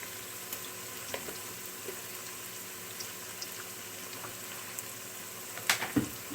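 Onion and garlic sautéing in a pan for Filipino chicken tinola give a soft, steady sizzle with a few light utensil clinks near the end.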